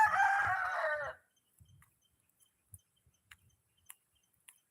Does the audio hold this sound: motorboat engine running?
no